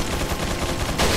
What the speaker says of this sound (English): Hang on, I'm going to bust my sniper rifle out.